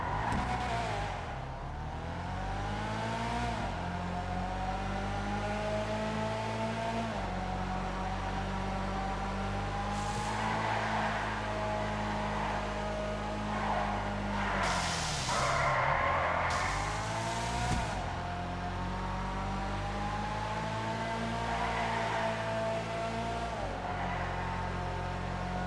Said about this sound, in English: the next car is the Ennis Remus. Let's take this thing out for a spin, see how well it performs